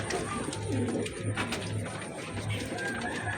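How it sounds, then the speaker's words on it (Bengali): Pet pigeons coo in soft, repeated low calls close by, several throaty notes spaced through a steady background hiss. "পায়রা ছেড়তে দেখুন, এটা নর বাচ্চাটা ছাড়লো"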